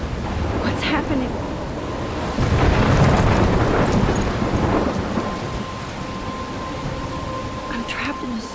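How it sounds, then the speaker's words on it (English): A thunderstorm rages near the lighthouse in Life Is Strange, steady heavy rain under rolling thunder that swells into a loud rumble partway through and then settles back to a constant downpour. "I'm trapped in a storm?"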